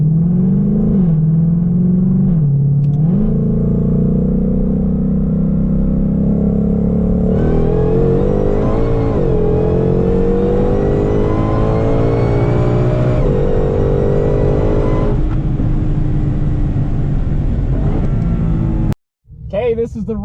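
A Ford Shelby GT500 with about 840 wheel horsepower drag races a C7 Z06 Corvette. Loud, sustained engine roar climbs in pitch with hard revving, shifts up around two gear changes, then cuts off abruptly near the end.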